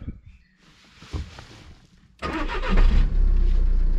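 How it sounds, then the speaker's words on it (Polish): A Volkswagen-group car engine starts after an ignition switch replacement: a short starter crank, then the engine catches and settles into a loud steady idle, recorded close up. "Auto odpala."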